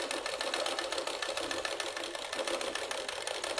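A sewing machine stitches the main fabric of a boat neck, princess cut blouse, a quiet, even, rapid chatter running steadily without a break.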